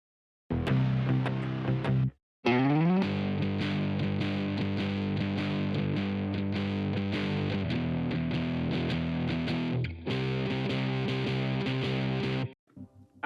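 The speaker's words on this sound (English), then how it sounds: "Halfway through the bridge, I added actual guitar playing that, that I played, I think." A heavily processed electric guitar part from a song's bridge plays on for about twelve seconds, dense and sustained with brief drop-outs, and ends abruptly.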